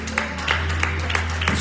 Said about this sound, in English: just clap your hands and begin to praise God